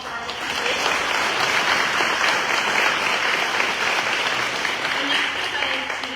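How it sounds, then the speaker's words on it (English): An audience at a civic event in Oxford, Alabama claps for elected officials, a dense, loud, sustained round of applause that swells and holds for several seconds before easing slightly. "give a round of applause for our elected officials"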